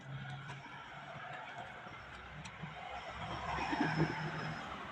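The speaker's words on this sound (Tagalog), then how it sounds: "Naririnig nyo yung ng sasakyan." A vehicle passes along a countryside road in the rural Philippines, a faint low rumble swelling toward the end amid quiet outdoor ambience and a distant rooster.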